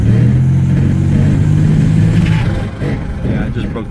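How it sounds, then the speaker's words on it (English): A 1989 Turbo Trans Am's turbocharged engine revs hard in gear, a loud steady drone with harmonic whine, the note dropping and roughening toward the end as the tires break loose, with a voice talking over it. "I put it in gear and rev it up against the motor"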